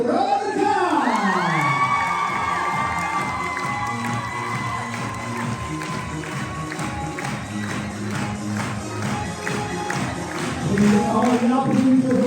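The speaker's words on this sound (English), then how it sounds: "big applause à Miss Veronica" Crowd at a Corfu beach resort event cheering and whooping for Miss Veronica, loud and continuous with shouts and some clapping, a host's voice and music mixed in.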